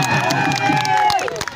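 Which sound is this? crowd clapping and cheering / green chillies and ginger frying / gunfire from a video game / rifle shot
crowd clapping and cheering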